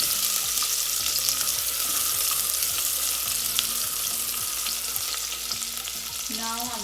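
Chopped onion sizzles steadily in hot oil with a cinnamon stick in a pan, a constant close frying hiss with faint scraping strokes of stirring underneath, no voices.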